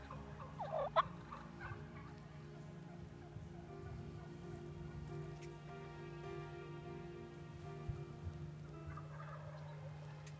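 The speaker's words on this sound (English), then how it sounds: "This is one of the most phenomenal eastern wild turkey gobbling mornings you will ever hear." Eastern wild turkeys gobble repeatedly on a spring morning in the woods, with several birds sounding off at varying distances over a steady low background hum.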